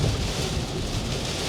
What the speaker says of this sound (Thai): โอ้โห วันนี้ฝนตกหนักมากนะครับ